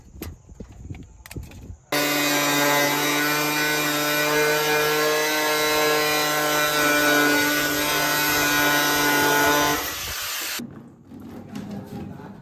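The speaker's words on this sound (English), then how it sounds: "cut the sheet without much hassle using a normal angle grinder" Normal angle grinder cutting a polycarbonate sheet for an excavator windscreen repair on a farm, a loud steady high-pitched whine lasting about eight seconds, with quieter handling noises before and after.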